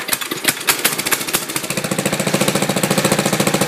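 A small go-kart engine fires up and settles into a rapid, loud, rhythmic putter, first irregular coughs, then a steady running pulse close to the listener; the kart has belt and chain problems.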